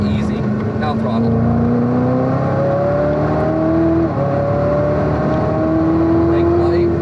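A Chevrolet Corvette C7 ZR1 engine pulls hard on a racetrack, a loud steady drone whose pitch climbs through the gears, heard from inside the car with an instructor talking over it.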